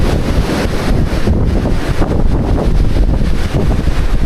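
Strong, continuous wind roars across a mountain hiking trail, a loud, steady broadband rush buffeting the microphone with gusty surges and no voices.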